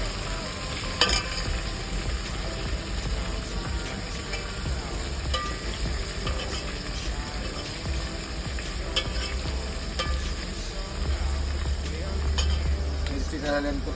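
Onion and chilies fry in a pan with a steady, dense sizzle for the whole stretch, close and fairly loud, broken now and then by clinks and scrapes of stirring.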